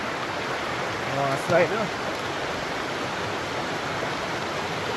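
Steady broadband rush of a river stream flowing at a hidden river spot, a continuous wash of water filling the whole clip, with brief speech near the middle over it.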